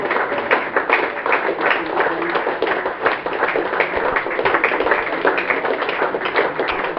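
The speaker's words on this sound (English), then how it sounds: "he's going to get a nice round of applause" Spectators at a Worcestershire v Sussex one-day cricket match applaud a departing batsman, a continuous patter of many hands clapping at moderate distance, steady for the whole stretch.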